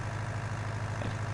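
A tractor engine idling in Farming Simulator 19, a steady low, throbbing rumble with a pulsing beat, continuous and fairly close throughout the brief moment.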